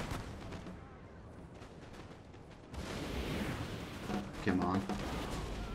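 Artillery fires in the battle game Napoleon Total War, with heavy rumbling booms and crackling volleys rolling through a dense battlefield din that swells partway through, while someone speaks briefly over it.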